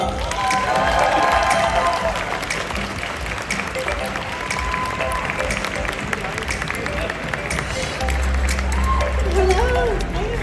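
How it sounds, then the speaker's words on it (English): At a Comic Con panel in Dortmund, a crowd welcomes actress Amy Acker to the stage with loud, continuous clapping mixed with cheers and scattered voices, which holds steady for about ten seconds. "please welcome to the stage with a huge round of applause"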